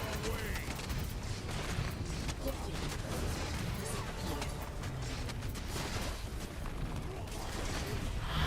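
A missile barrage ability firing in a video game, a quiet, continuous rattle of rapid launches and crackling impacts, like distant artillery, persisting evenly for several seconds with a player talking over it.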